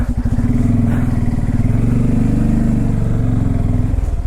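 A Bajaj Pulsar N250 motorcycle labouring off-road through thick mud, its engine a loud, close, steady low throb with a rapid pulsing beat that holds for several seconds before easing off.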